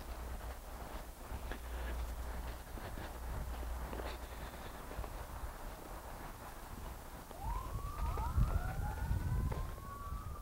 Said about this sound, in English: I hate sirens